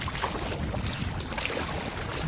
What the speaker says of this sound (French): Saloperie de vent du sud!